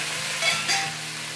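Garlic and shrimp sizzle and fry in a pan, a steady hiss with brief crackling bursts, close and moderately loud with no talking.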